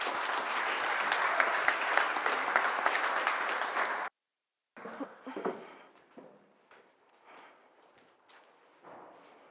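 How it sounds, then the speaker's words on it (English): A pitch-event audience applauds in a dense burst that stops abruptly after about four seconds, followed by a short silence and then quieter scattered knocks and rustling sounds. "So please, round of applause."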